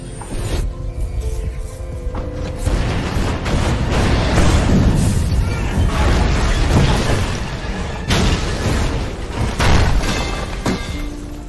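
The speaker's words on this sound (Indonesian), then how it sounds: "Gabriel ingin meledakkan gedung tersebut beserta John dan Parel" A gas explosion blows up a PLN building in a film, heard as a sustained roaring blast with booming low rumble, crashing debris and repeated bursts layered over several seconds, loud throughout.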